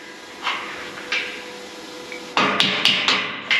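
A hammer strikes a solid metal bar used as an alignment guide, first with a few light, spaced taps and then with a quick run of louder, sharp, ringing blows close by.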